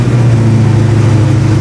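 A 1989 Mustang notchback V8 engine idles high and steady after a carburetor rebuild, a loud, close, continuous rumble with no talking.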